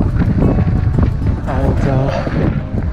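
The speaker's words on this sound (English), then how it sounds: "Can hardly make any progress up this hill into the headwind." Strong headwind roars across the microphone while cycling uphill, a loud, continuous buffeting rush with gusty swells, and a voice speaks briefly underneath.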